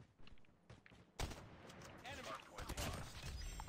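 Gunfire from the mobile shooter game COD Mobile: a burst of rapid shots and clattering weapon fire begins after about a second, loud and dense through the rest, with some game noise underneath.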